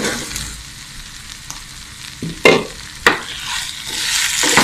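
Baby potatoes for a Chettinad roast sauté in a pan under a steady sizzle, with a few sharp scrapes and clatters of the spatula.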